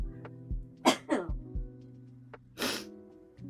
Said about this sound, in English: One second, I got to turn away from the mic to cough.